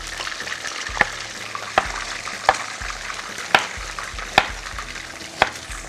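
Mackerel fries in a hot pan with a steady sizzle. Sharp clicks and taps from stirring or utensils land about once a second over the bubbling oil, close up and fairly loud.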